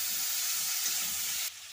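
Potato and broccoli pieces fry in a pan with a steady, close hiss of oil that cuts off abruptly near the end.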